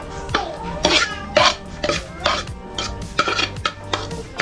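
Ingredients with pepper, garlic and onion are mixed together by hand before frying, giving irregular clinks, scrapes and wet stirring knocks against a bowl, close and fairly distinct.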